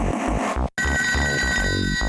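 A telephone rings in the ToeJam and Earl video game, a loud, busy electronic tone that is steady for about two seconds, layered with game music and cut by a short silent break.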